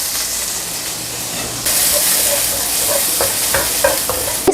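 Garlic frying in a pan, a loud close sizzle that jumps up sharply as it hits the hot oil, then keeps hissing with a few crackling pops, no voices over it.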